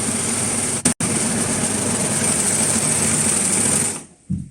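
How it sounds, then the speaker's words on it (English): An overlocker stitches a garment sleeve in a fast, even, close-up mechanical whir that keeps going for about four seconds, broken once by a brief pause, then stops. "now I will go and overlock it"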